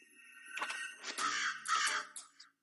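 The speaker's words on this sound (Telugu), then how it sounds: "ఓ నల్ల కాకి దిగుతుంది చూడు." Harsh, rasping crow caws repeat several times in quick succession, loud and close, with short breaks between calls.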